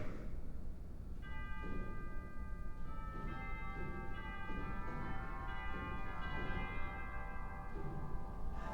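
Chimes stop of a 1966 Austin pipe organ in a Lutheran church, bright sustained bell tones sounding over a steady low wash of organ pipes and room noise, several struck notes overlapping and ringing on.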